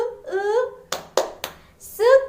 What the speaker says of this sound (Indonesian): Hore, tepuk sukacita